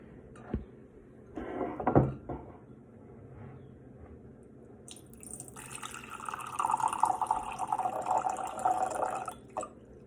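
Water is poured into a quarter-cup measuring cup during a science lesson, a running trickle lasting several seconds after a couple of brief clatters, fairly close and alone.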